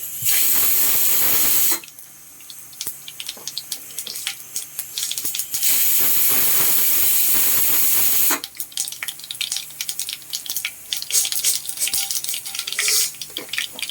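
Fenugreek seeds hit hot oil in a kadai while Kerala sadya sambar is being made, giving loud, steady sizzling bursts that fade twice into quieter crackling and short pops before the hiss surges again.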